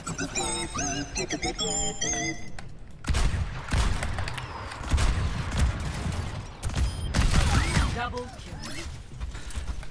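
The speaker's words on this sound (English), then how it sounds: "His ult is interesting. Artillery, look at this." Bastion's artillery ultimate in Overwatch 2, a barrage of rapid heavy blasts and mechanical clanks rolling on for several seconds after an initial stretch of electronic game tones, loud and close.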